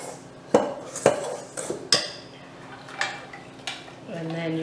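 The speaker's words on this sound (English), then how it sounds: "Give that a stir." A spoon stirs cornstarch and sugar in a mixing bowl, clinking and knocking against the bowl about six times in an uneven rhythm, close by, before a brief hummed voice-like tone at the end.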